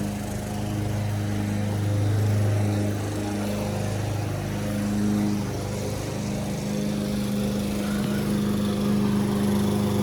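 A push lawn mower runs steadily at a lawn care job, its engine droning loud and close without a break for about ten seconds.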